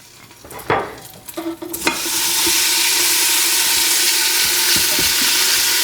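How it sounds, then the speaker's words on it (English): Chopped bacon, half a pound, hits a hot Instant Pot with oil: a few clanks and stirring sounds, then a loud, continuous close sizzle that holds steady to the end. "Then once the pot has heated up, we'll add our bacon."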